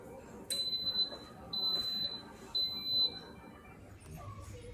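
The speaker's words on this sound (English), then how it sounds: "my Instapot was just beeping" An Instant Pot pressure cooker making yogurt beeps three times, evenly spaced high electronic tones close by, with low muffled background noise and a faint voice underneath.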